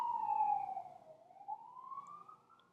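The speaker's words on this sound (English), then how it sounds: "I'm waiting for that siren to pass." A siren wails with a falling then rising pitch, one long sweep, moderately loud and slightly distant, fading as it passes; no talking.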